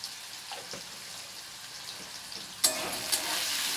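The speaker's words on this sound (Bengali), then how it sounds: "আলুটাকে আগে আমি একটু হালকা করে ভেজে নেব।" Potatoes fry lightly in a pan for a fish, potato and bitter gourd curry. A faint soft bubbling starts the clip, then a sudden louder sizzle bursts in near the end and keeps going.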